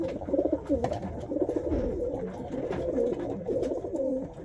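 A pigeon coos in low, throaty rolling phrases that repeat continuously at close range, with faint background rustling and no talking.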